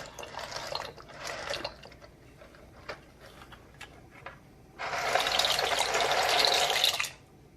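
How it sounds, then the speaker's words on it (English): Water splashes and bubbles nearby in short bursts as pasta goes into a pot of hot water, followed by a longer, louder rush of churning liquid that stops abruptly. "you just want to slowly put it in. Try not to make as much splashing as I am."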